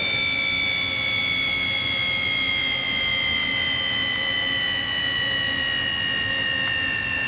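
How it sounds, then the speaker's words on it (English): An engine running flat out at high speed, a loud, steady, close whine with sustained tones that slowly drift lower over a constant roar, with no talking. "We're gonna run this engine no matter what it takes."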